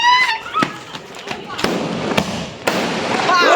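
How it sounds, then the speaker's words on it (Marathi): Firecrackers go off at New Year midnight, a series of sharp loud bangs and cracks scattered near and far, with voices talking and shouting over them. "12 वाजले आहेत आणि आता आम्ही लावतोय बॉम्ब"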